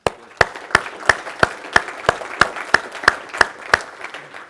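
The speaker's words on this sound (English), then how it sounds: "So again, a warm applause for all of you who want to put in the extra effort" At a conference session, hands clap in a slow, evenly spaced rhythm, about eleven crisp claps in a row over a quiet room, steady in loudness from start to finish.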